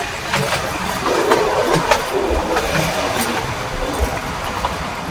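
The Ooty train rolling on its rails, a loud continuous rumble with rhythmic clicks and clacks from the wheels, heard from on board.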